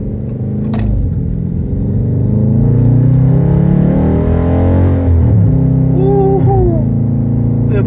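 A car fitted with a 3.09 limited slip differential accelerates hard, its engine rumbling loudly and climbing in pitch with a brief tire chirp from wheel spin near the end, close and loud.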